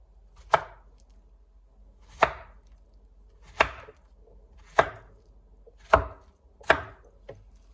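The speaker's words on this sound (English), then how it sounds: "So I'm going to cut these on the diagonal" Plantains are cut on the diagonal with a kitchen knife, six crisp chops landing on a cutting board about a second or more apart, close and clear against near silence.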